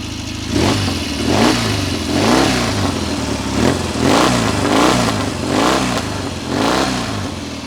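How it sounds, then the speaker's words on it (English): A 1971 Norton Commando 750S motorcycle engine fitted with pea shooter silencers, revving repeatedly in regular rising and falling surges, close and loud with a rough, ripping exhaust note and no talking. "Oh, I love the sound of a Norton Commando pea shooter silencers."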